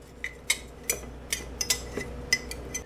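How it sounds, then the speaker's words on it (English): Frozen banana pieces drop out of a glass jar while a homegrown plant-based green smoothie is made, giving a quick run of about eight light, sharp clinks and knocks, spaced unevenly and close by with no talking. "And check out how easy it is now to get these bananas out of the jar."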